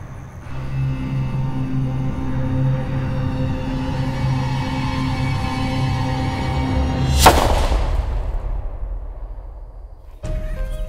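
A single loud rifle shot, from a McWhorter 30 MCR, is fired at a wild hog in brush country, cutting sharply through a steady engine-like rumble. A brief pause follows, then the background hum returns.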